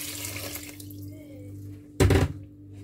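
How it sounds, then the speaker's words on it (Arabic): A short, loud burst of water pours and splashes into a cooking pot for date syrup after a quiet stretch, with a faint kitchen hum underneath. "انا غادي ندير فيها جوج يطرو ديال الماء"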